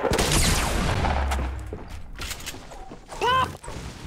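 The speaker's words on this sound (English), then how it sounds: "I'm getting shot in the back, of course" Video game gunfire cracks from behind the player, a rough burst of shots at the start that fades into scattered mechanical noises before a short loud sweep near the end.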